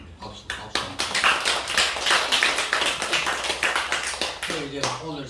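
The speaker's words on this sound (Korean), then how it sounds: "박수 한번." A church congregation clapping together, a burst of dense applause that swells and holds, with a voice heard briefly near the end.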